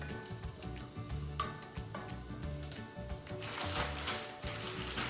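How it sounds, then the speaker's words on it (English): Mexican cauliflower rice sizzles steadily in a pan while being stirred, with irregular scraping and clicking strokes over a continuous frying hiss, fairly close and moderate in level. "So you're gonna cook this up, you're gonna stir it up together."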